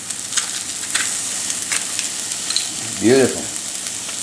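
A couple of small homegrown garlic cloves sizzle steadily in a frying pan with a soft, continuous crackle, and a brief spoken word near the end.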